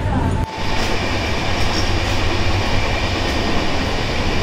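A train runs along the scenic hill railway route near Haflong and Maibong, between a river and hills: a steady, loud rolling rumble and rattle of wagons that carries on throughout, with no talk.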